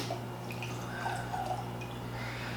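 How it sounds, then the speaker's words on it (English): Booker's bourbon, the 2022-01 Ronnie's Batch at 124.3 proof, is poured into an infinity bottle, giving a quiet, close trickling and gurgling of liquid over a steady low hum. "we always do uncorking, a nice 2-ounce pour into the infinity bottle here."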